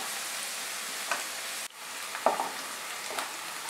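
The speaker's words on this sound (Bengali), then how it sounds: "পেঁয়াজটাকে মাঝারি আঁচে ফ্রাই করব।" Onion for bhindi do pyaza fries on medium heat, a continuous soft sizzle with a brief dip partway through and a few light scraping stirs, close by with no speech.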